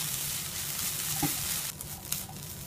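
Cabbage sizzles while stir-fried uncovered in a non-stick pan, a dense continuous frying hiss with a couple of utensil taps, briefly dipping quieter toward the end.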